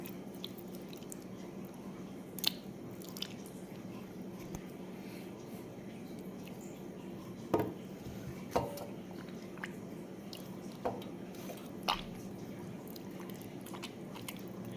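Boiled raw mango pieces are squeezed by hand to free the pulp for a mango stew, giving quiet, sparse wet squishes and a few soft crunchy snaps over a low background hum.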